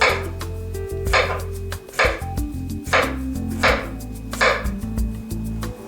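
A knife chops steadily through firm sweet potato on a board, about five crisp strikes with short pauses, close and fairly loud, with faint kitchen hum underneath.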